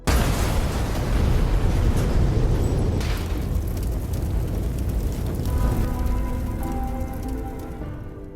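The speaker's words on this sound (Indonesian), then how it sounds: "Hingga ketika orang tersebut masuk, granat itu meledak dan kita lihat bersama." A grenade blast inside a van in an action film, a loud burst at the start followed by a long crackling rain of debris that slowly fades away.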